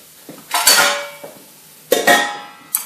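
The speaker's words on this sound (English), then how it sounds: "in order to help the onions to sweat, what I'll do is I'll put the lid on" A metal lid is set onto a cooking pot of sweating onions with two sharp clanging rattles that ring and fade, then a brief third clink at the end, close and loud with no talking.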